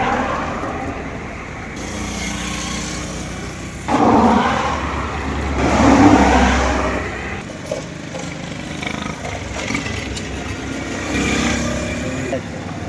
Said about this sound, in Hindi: यहाँ पे मोटरसाइकिल सवार, छोटी बड़ी गाड़ियाँ अपनी अपनी मंजिल की तरफ रवां दवां भी दिखाई दे रही हैं।